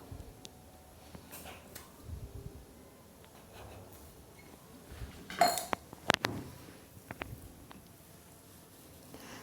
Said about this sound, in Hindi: और अब एक कटोरी या गिलास ले लेंगे और इसको कट कर लेंगे।